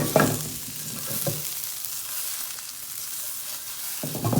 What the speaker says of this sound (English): Make sure you flip the onions as well, because only one side will be cooked.